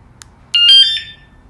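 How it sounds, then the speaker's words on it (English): A motorcycle anti-theft alarm is set: two short electronic chirps sound, then a brief, loud, warbling multi-tone beep, close and clear, followed by quiet. "I'm going to go ahead and set the alarm."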